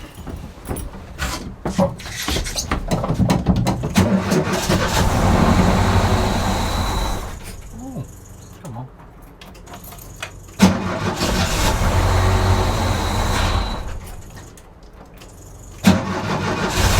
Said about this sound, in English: The engine sounded.